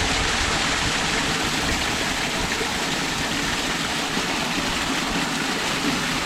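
Spring rainwater rushing into a leaf-clogged street sewer drain, a loud continuous gushing roar heard up close and alone, with no break in the flow.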